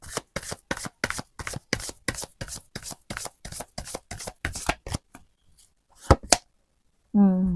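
A deck of tarot cards shuffled by hand, a fast regular train of crisp, close riffles that pause briefly, then a couple more slaps before a voice begins speaking at the end.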